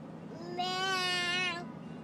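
A tired baby imitates a cat with a single drawn-out meow lasting about a second, high and fairly faint over quiet room background.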